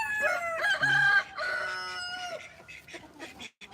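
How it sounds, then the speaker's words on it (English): Very tall chickens, about three feet high, crow loudly close by, with a drawn-out cock-a-doodle-doo followed by scattered clucks and short calls. "world's tallest chickens are over here."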